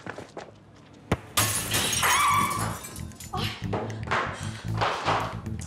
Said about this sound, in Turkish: Aha gitti. Cam gitti.